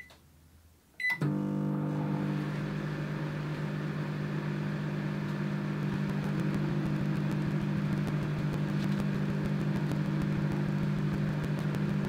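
After a short click, a microwave oven hums steadily and loudly for about eleven seconds while heating a gallium and epoxy resin casting.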